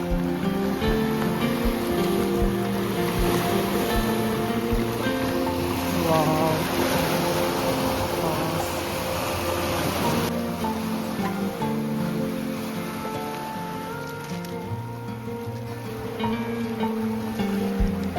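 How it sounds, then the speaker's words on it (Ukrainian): Sea waves wash continuously against the shore at Salou, Spain, a broad rushing surge with faint tonal background sounds mixed in and no talking. "посидіти на березі моря, послухати шепіт хвиль"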